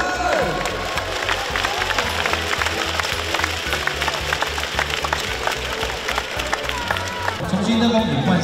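A basketball arena crowd applauds and cheers a departing player in a continuous dense wash of clapping, with an announcer's amplified voice over it.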